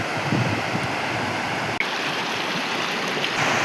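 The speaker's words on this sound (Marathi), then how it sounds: "खूप सुंदर बघा पाणी वाहते झुलझुल वाहणाऱ्या नदी" A village river at Durgawadi near Chiplun in the Konkan rushes past close by in a continuous, even flowing roar, interrupted only by one brief dropout, with no voices.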